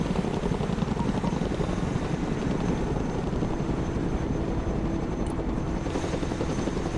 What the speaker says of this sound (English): Let's go and recover it with our helicopter.